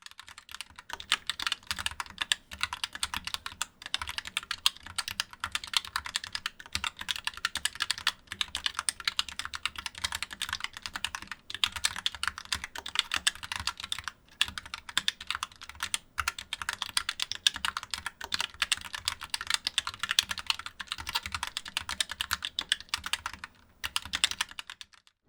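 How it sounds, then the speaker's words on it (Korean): Fast, steady typing on a ROCCAT Vulcan 2 Mini Air wireless keyboard with quiet, light switches, a dense run of close, crisp key clicks lasting the whole stretch without any talk. "자, 그럼 키보드 타건음부터 한번 자세하게 살펴보도록 하겠습니다."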